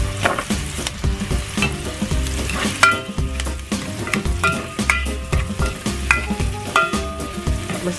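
Garlic sizzling and frying in a pan for chicken tinola, with a steady hiss under repeated scraping and clanking of a utensil being stirred against the pan, close up and with no talking.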